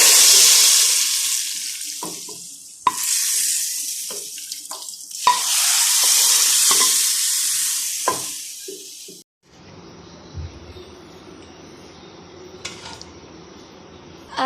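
Loud hissing sizzle bursts as hot oil tempering hits cooked chana dal, in several strong surges, then settles into a quieter low crackle and bubbling.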